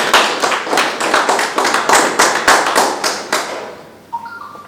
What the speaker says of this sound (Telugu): ఒకసారి గ్రాండ్ క్లాప్స్ తో రెడ్డి బిజినెస్.